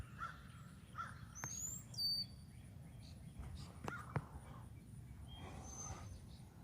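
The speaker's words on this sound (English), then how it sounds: "Hello, crows." Several crows caw intermittently outdoors, a few harsh calls rising above a steady low ambient rumble, with faint other birdsong in the background.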